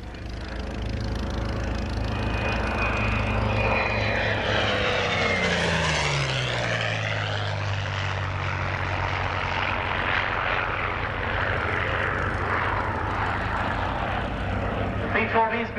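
A Curtiss P-40 Kittyhawk warplane flies past at an airshow, its propeller engine droning louder as it nears and then sliding down in pitch as it passes, with a commentator talking over the public address throughout.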